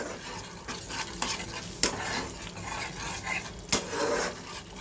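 Onions fry in a pan for a small-prawn malai curry, with a soft sizzle under repeated scraping strokes of a spoon. The sound is fairly quiet and close, with two or three sharper clinks against the pan.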